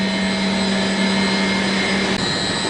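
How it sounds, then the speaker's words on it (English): A very large air handler return blower fan inside a big overhead pipe at a Brooklyn mail processing center roars with a steady, loud broadband rush and hum, continuous and close. "And this huge pipe up here has a fan in it."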